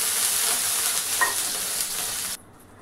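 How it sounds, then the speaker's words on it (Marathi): Water is sprinkled onto a hot greased dosa tawa, setting off a loud, close burst of hissing sizzle that holds for about two seconds, then stops suddenly, leaving a quieter background. "आता तव्याचा वरचा भाग थोडासा थंड होण्यासाठी पाणी शिंपडायचं आहे"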